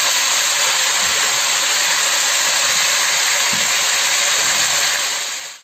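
Marinated oxtail meat searing in a hot pan gives a steady, loud broadband sizzle and hiss that holds evenly for several seconds, then cuts off abruptly at the end, with no voices over it.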